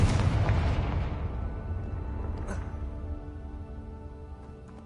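A Confringo fire-curse explosion in the Hogwarts Legacy game lands with a loud, close boom, then rumbles and slowly fades over several seconds.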